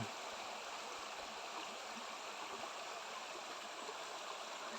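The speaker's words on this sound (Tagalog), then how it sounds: "Ang dumadaloy na tubig." Rust-colored water flows in a stream near mines at Sitio Pulang Lupa in the Sierra Madre, General Nakar, Quezon, giving a steady, soft, continuous rushing wash with no voices.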